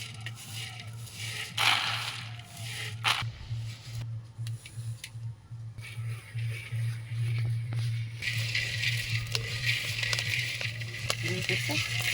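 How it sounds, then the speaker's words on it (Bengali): Kalai pulses dry-frying in a pan give off a soft crackle, with scattered ticks and rattles as the grains shift, over a steady low hum. "এবারে এই কলাগুলোকে ভাজা হবে"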